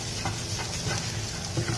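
Garlic sizzling in a hot pan while being stirred, close-up crackling with soft rhythmic scraping strokes and no talk.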